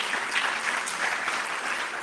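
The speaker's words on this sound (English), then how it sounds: "Can I hear that round of applause" Applause from an audience at an investment conference in Botswana, steady and dense for about two seconds without a break.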